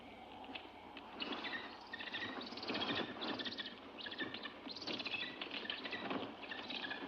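A bird flapping its wings in a forest, a busy fluttering rustle with bird chirps throughout, moderately close.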